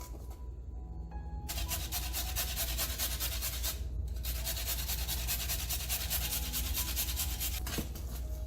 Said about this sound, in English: I'm going to actually grate a couple of fresh carrots in here.